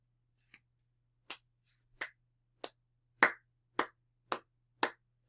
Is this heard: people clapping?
yes